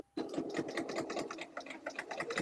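A sewing machine running steadily while doing wavy quilting on a quilt top, its needle chattering in a fast, even rhythm close by after a brief silent start.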